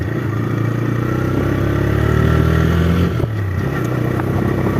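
A motorcycle engine runs steadily nearby with a low, rumbling idle, then the pitch shifts briefly near the end.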